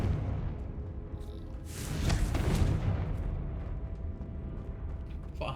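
A Confringo blasting spell explodes in Hogwarts Legacy, a broad rumbling burst that swells to a peak midway and then lingers as a dense roar before fading.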